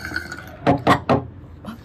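Three short wet slurps of strawberry milkshake sucked through a straw, evenly spaced and close, followed by a fainter fourth.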